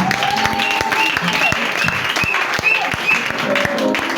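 A church congregation at a French-language prayer service acclaims the Lord, breaking into loud applause and cheering that runs unbroken, with voices calling out over the clapping.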